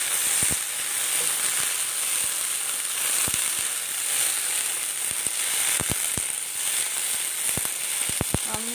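Okra (lady's finger) sautéing in a pan for a tamarind curry, a steady close sizzle and frying hiss with scattered sharp clicks and scrapes of stirring, and no one speaking.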